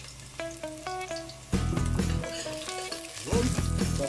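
Garlic fries in a pan for chicken adobo, a soft sizzle that swells into louder bursts partway through, heard alone without talking over quiet background music.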